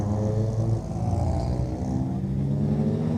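Oval-track race cars at a club meeting drone steadily with a harmonic engine tone that dips and rises slightly as the cars circulate, with no voices heard.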